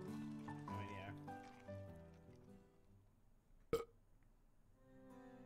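A loud burp sound effect from the video game Ace Academy bursts out once after a stretch of talking, short and abrupt before a quieter tail.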